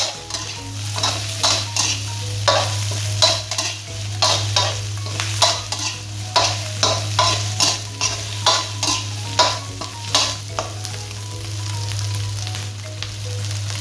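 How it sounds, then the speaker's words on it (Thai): Thai sai ua sausage is stir-fried gently in a pan with basil, giving a rapid, regular run of spatula scrapes and clacks over a constant sizzle, close and loud. "แล้วก็ผัดผัดเบาๆนะครับ ตรงนี้นะเดี๋ยวมันจะแตก"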